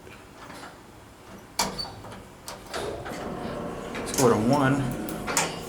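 Doors and machinery of a vintage 1958 Otis traction elevator with a key switch, in the Scottish Rite Temple in El Paso, Texas, clunk and slide in a few sharp knocks and a whirring hum while someone speaks over them.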